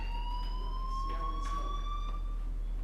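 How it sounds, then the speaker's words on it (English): In the video game Life Is Strange, a fire alarm wails as a steady rising electronic tone over a low hum, continuous and moderately loud, with faint background sounds. "Do you hear that fire alarm? That means you should be outside."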